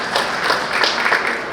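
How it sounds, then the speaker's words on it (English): Brief applause from an audience at a government services conference session, a steady patter of many hands clapping that fills the short moment at moderate loudness with no talk. "let's give Ms. Stevens another round of applause"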